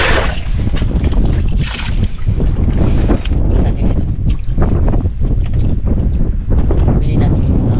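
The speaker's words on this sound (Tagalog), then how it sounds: "Malakas pa rin yung hangin." Strong wind at sea buffets the microphone with loud, gusty roaring, mixed with water and boat noise and some voices.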